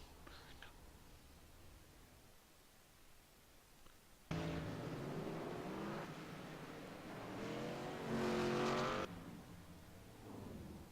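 Race cars in a sim racing game from the USRC JTT Series, engines droning in a low hum that jumps to a louder, layered roar of several cars for about five seconds before easing back.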